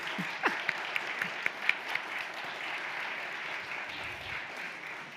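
Steady applause from a crowd fills the space, with a few sharper individual claps standing out early on, moderately loud and continuous.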